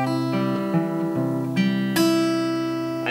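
Guitar playing a short bar of single notes with a pull-off between notes, each plucked tone ringing clearly and sustaining, close and loud with no talk.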